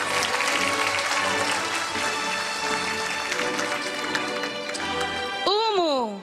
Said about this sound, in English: Let's give Maryam a big round of applause